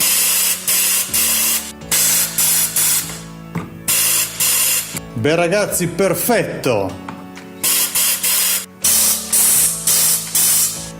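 Water bursts through the descaled inlet valve of a washing machine in loud, repeated spraying gushes, broken by a stretch where someone speaks over the hiss.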